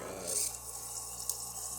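Hot water running from a Rancilio Silvia espresso machine, a steady hissing trickle with a faint low hum beneath, close and continuous throughout.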